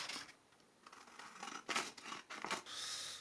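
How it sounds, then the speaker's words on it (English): Scissors snipping through a strip of abrasive material for polishing a crankshaft, a few quick, crisp close-up cuts with scratchy rustling between them and no talk. "you just sort of like cut up a strip"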